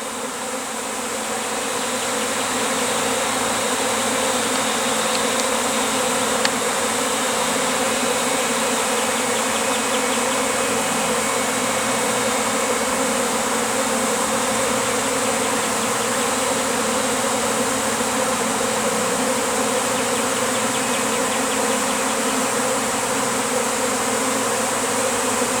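A honeybee swarm pours out of a hive box with a dense, steady buzzing hum that grows and holds loud and close throughout, alone with no talking.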